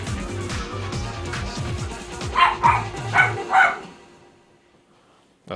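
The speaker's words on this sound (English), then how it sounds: "Oh, that's my dog." A pet dog barks repeatedly nearby while a tournament game plays. Several sharp, close barks come in a quick cluster over background game sound, then everything fades to near silence.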